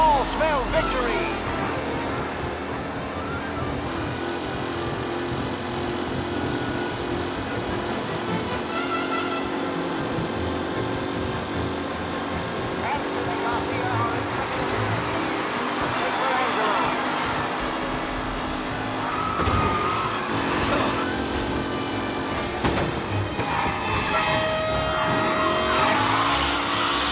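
Race cars in Mafia Definitive Edition speed around a track in a steady, dense engine roar with passing whooshes and revs throughout, sometimes with background chatter.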